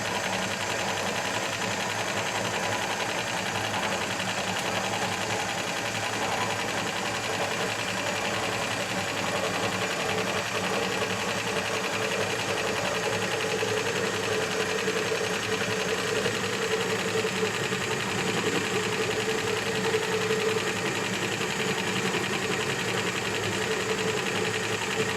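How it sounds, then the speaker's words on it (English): A Spangle Elite bling transfer machine runs nonstop at close range, a steady whirring mechanical hum with a faint rhythmic vibration and no talking. "So let's go ahead and actually see what's going on in the machine."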